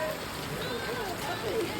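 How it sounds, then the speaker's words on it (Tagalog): Constant dense hiss of heavy rain pouring down, steady throughout, with faint voices murmuring beneath. "napakalakas pa rin ng ulan"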